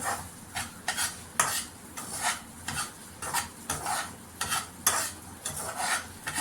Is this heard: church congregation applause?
no